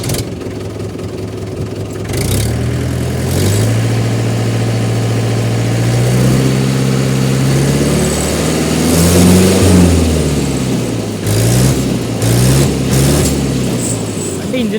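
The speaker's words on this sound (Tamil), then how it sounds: "வண்டி இன்ஜின் ஸ்டார்ட் பண்ணுறேன் பாருங்கள், புகையா எதுவுமே இருக்காது." A Mahindra 475 DI tractor engine cranks and fires after a short quiet stretch, then settles into a loud, close diesel idle with a few revs rising and falling, while someone speaks over it.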